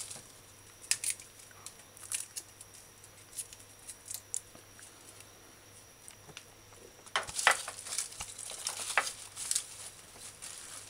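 Small kitchen snips and clicks while the ends are trimmed off oxtail stew ingredients, scattered soft cuts that turn into a busier cluster of crisp taps and rustles partway through, with no voices.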